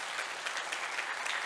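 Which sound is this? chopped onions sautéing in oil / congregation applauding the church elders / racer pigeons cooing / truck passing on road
congregation applauding the church elders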